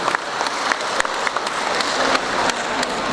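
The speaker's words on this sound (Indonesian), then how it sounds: "Tepuk tangan untuk beliau" Seated audience at an anti-bullying character education seminar claps steadily for an invited guest being introduced, a dense, even wash of many hands at moderate loudness throughout with no talk over it.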